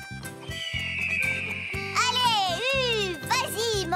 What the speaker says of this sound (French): Julien avait besoin de son aide pour diriger Gallo vers la calèche.